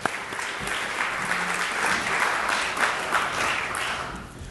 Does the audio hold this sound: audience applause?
yes